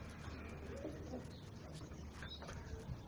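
Soft, low cooing of pigeons close by under a constant murmur of background noise.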